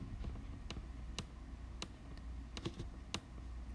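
Fingers tapping numbers into a calculator, a handful of sharp, quiet clicks at an uneven pace over a low steady background hum.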